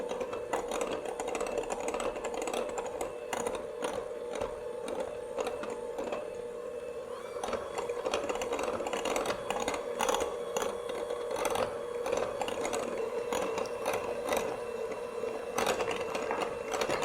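An electric mixer beats cupcake batter at low speed in a home kitchen, a steady whirring hum that runs for the whole stretch at a moderate level with no talk.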